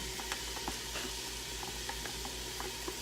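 Onions and minced garlic sizzle in a pan, a faint, steady frying hiss with small scattered pops and crackles, heard close and alone.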